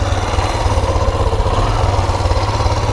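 A fire-damaged 2001 Kawasaki Bayou KLF 300 quad ATV engine idles steadily close by, a low chugging rumble that holds an even, uneven-pulsed rhythm throughout.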